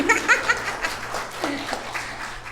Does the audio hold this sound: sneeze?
no